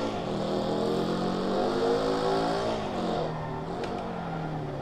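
A simulated car engine in the BeamNG.drive driving game with a smooth, Lexus-like tone, revving steadily with rising and falling pitch, close and continuous, ending with a brief knock.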